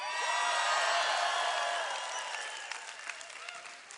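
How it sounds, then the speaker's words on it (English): An audience at a talk gives a burst of applause, loud at first and fading, with scattered whoops and shouts toward the end. "By round of applause and scream and shout and holler"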